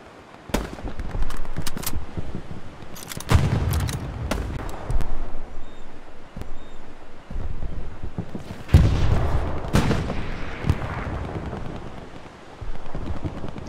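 Artillery and gunfire in the World War II shooter Hell Let Loose on Utah Beach, with heavy booming blasts and sharp cracks at irregular intervals, some near and loud, others distant, between quieter stretches.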